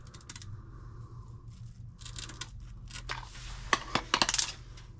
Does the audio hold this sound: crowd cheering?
no